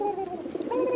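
A pigeon coos close by, one short throaty call with a soft rolling pitch that dips and rises again within about a second.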